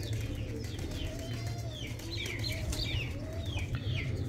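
Pigeons coo softly in a loft where numbered birds are being handled, with several faint, rising and falling calls repeating over a low steady background hum.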